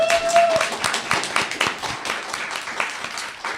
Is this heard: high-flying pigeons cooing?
no